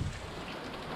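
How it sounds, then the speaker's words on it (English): Rain falls steadily outdoors in a continuous soft wash, with a brief low rumble at the very start and no voices. "So as soon as the rain stops, oh yeah, look at that. Rainy day, blah."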